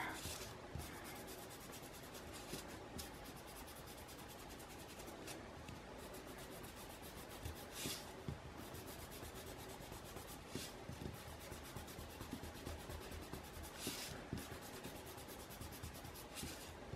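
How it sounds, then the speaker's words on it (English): Pencil eraser rubbing firmly back and forth over a pencil mandala drawing on paper, a continuous faint scratchy scrubbing with brief pauses and strokes throughout, quiet and close, no speech. "I'm going to have to push a little harder with my erasing."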